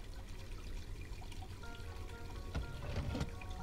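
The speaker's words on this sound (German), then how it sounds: "Das Wasser ist kochend heiß." Boiling hot water runs and pours from a tap in the Black Mirror 2 video game, a quiet continuous trickling stream with brief splashy bursts toward the end and no talk.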